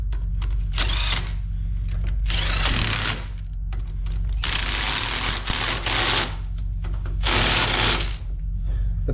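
A ratchet with a 10mm 12-point socket tightens axle bolts on a wheel, giving repeated bursts of rapid, close clicking that are separated by short pauses.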